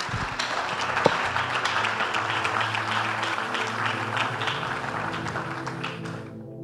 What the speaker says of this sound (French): Acclame bien, bien, bien